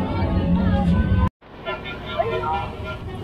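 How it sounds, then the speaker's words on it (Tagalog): A vehicle passes in city street traffic as a food delivery rider travels in Manila, a close motor whoosh with road noise and background voices, then a brief dropout followed by quieter traffic. "Ay, sasakyan."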